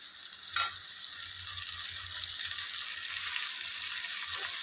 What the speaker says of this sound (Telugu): టమాటా వేసుకున్నాను.